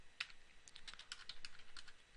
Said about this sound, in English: So I'm going to type in network